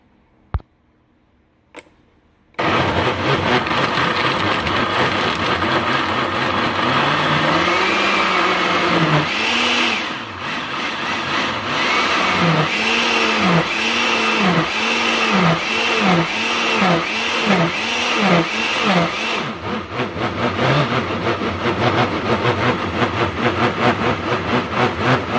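A blender loudly blends vegetables and nuts, including hazelnuts, for keto vegetable bread. A couple of clicks come first, then a steady, powerful motor roar runs for over twenty seconds with rhythmic pulsing as the blades churn the thick mix.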